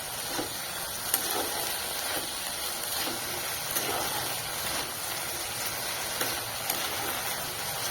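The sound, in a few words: frying water lily stems with salt and turmeric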